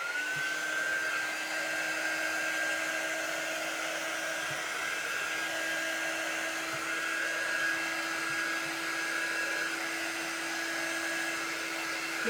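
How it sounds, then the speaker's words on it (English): A heat gun blows hot air over a wet napkin glued to a pumpkin, giving a steady, close, continuous whirring rush of airflow with no break and no talking. "Let me see if I can use my heat gun to speed that up a little bit."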